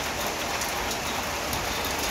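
Heavy rain pouring steadily in a flooded residential complex, a dense unbroken hiss that fills the whole moment at close range with no voices.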